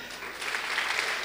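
A brief burst of audience applause, dense and continuous, rising slightly after the first moment and staying steady, heard from a short distance with no talk over it.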